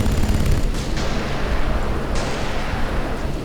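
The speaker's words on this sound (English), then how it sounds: "Possibly a bazooka." Battle noise in the World War II strategy game Sudden Strike 3: a dense, loud wash of distant gunfire and booming explosions, with sharp blasts near the start and again around the middle, no voices.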